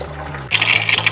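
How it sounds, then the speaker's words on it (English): Water rushing into the fresh-water tank of a 2016 Eagle HT fifth-wheel camper during dewinterizing, starting abruptly as a loud, steady gush after a low hum. "Now it's filling the tank."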